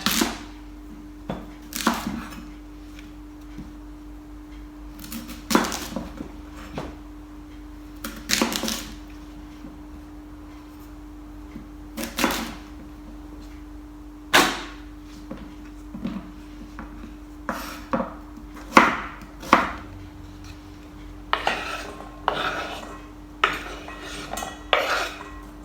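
A knife cutting around the core of a parsnip on a board, with sharp, spaced-out knocks and taps that come closer together toward the end, close and fairly loud, with no talking.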